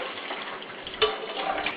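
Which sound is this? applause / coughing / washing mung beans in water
washing mung beans in water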